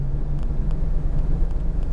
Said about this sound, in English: Big old truck can do a U-turn.